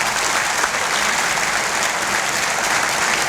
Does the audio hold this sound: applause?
yes